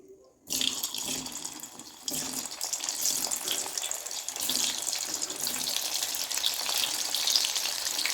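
Potatoes fry in hot oil in a kadai, a steady, dense sizzle that starts abruptly after a short quiet moment and holds close and continuous to the end, with no voices.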